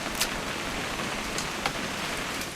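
Steady rain falling in the video game What Remains of Edith Finch, a dense, even hiss of drops with a few brighter spatters, close and constant throughout.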